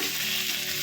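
Chopped onions sauté in a frying pan for a South Indian-style lunch, giving a steady, close, loud sizzle and hiss that runs unbroken with no talking.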